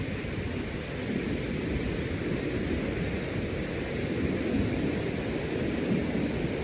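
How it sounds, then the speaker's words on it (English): Ocean surf at Sue-Meg State Park on the redwood coast makes a steady, distant roar of breaking waves, a continuous wash of noise with no voices. "I like to watch the waves."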